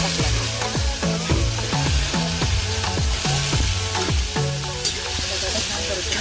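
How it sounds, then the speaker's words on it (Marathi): Potato frying with onion and tomato in a pan for a Kolhapuri Maharashtrian dish, with a steady sizzle under repeated scraping strokes of a spatula stirring the mix, close and continuous, no talk. "बटाटा छान परतून घेतला"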